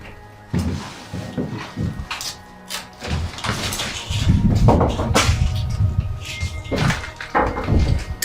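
A door in an abandoned holiday house at night is pulled open with knocks, scrapes and a heavy thud, close and fairly loud, as people talk quietly nearby.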